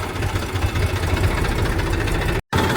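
A tractor engine idles nearby with a steady, loud, low chugging rumble that cuts out for a moment near the end.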